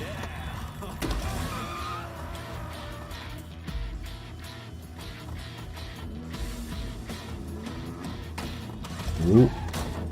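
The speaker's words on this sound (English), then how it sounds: "All the cars turning up." Cars rev and skid as they arrive in a NoLimit City online slot game, mechanical whirs and clatters layered with game music while someone talks over them, ending in a short sharp burst.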